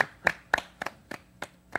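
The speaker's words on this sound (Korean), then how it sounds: "강일이 간만에 박수 한번 쳐주시죠" Hand claps in a studio, seven sharp, evenly spaced slaps in about two seconds, close and fairly loud over a quiet background.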